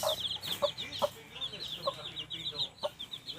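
Five-day-old Rhode Island Red chicks on a backyard farm chirp with repeated high-pitched peeps through a busy, close brood, alongside occasional clucking.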